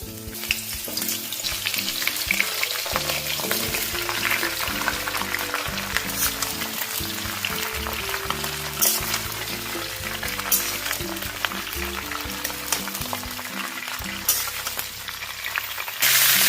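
Mango pieces are dropped into hot mustard oil in a pan for a sweet pickle, and a loud, continuous crackling sizzle follows with scattered pops and stirring clatter.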